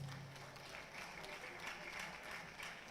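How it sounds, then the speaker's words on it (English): Audience applause at a celebration event for a bishop's seventieth birthday, a faint, distant patter of clapping in a reverberant hall, with a murmur of voices beneath. "Let's give them a resounding round of applause."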